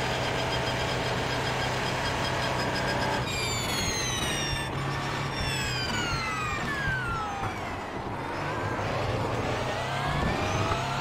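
The engine of an Audi R18 LMP1 race car in the iRacing sim at Circuit de la Sarthe drones continuously at high revs, with rising whines as it shifts through gears, a steady loud hum with no talking.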